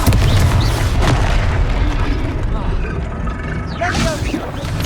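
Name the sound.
Confringo explosion spell, from the video game Hogwarts Legacy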